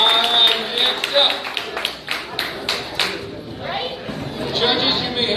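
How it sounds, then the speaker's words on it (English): An audience at a live drawing competition breaks into a round of applause, brisk clapping over chatter and a host's voice, loud and close, fading slightly before swelling again. "A round of applause."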